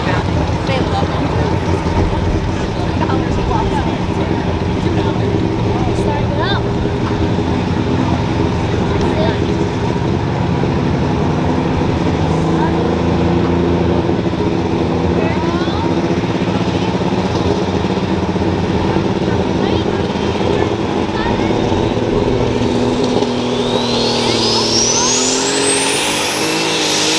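Light super stock pulling tractor at a tractor pull in Freeport, Illinois, a loud, sustained engine roar that drones steadily and rises in pitch near the end, heard without talk.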